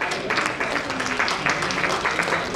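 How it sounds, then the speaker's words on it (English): An audience claps for a professor being introduced at an ozone therapy conference, with steady, dense applause that holds at an even level throughout, voices faintly mixed in. "Can I have a louder clap for him?"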